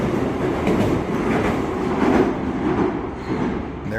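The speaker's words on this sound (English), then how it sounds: "But there goes the Shinkansen." A Shinkansen bullet train rushes past in Tokyo, a continuous broad rumble and rattle of rails, fairly close and steady throughout.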